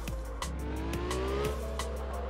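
Tires squeal on a car sliding into a handbrake spin in the drifting game Absolute Drift, a rising tonal screech held over a steady engine drone with faint rhythmic clicks.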